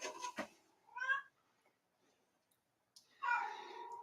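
A pet cat lets out two clear meows, a short one and then a longer, louder drawn-out call after a quiet pause, heard close in an otherwise still room.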